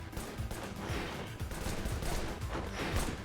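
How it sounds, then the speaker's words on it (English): Rifle gunfire in the game Wanted: Dead pours out as a continuous dense fusillade of overlapping shots, loud and chaotic, with no pause. "he's getting blasted with a rifle"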